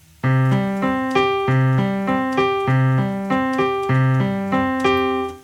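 A piano exercise starting on C plays two notes with the left hand and then two with the right, in clear, even, repeating alternating pairs, close and bright with no talking.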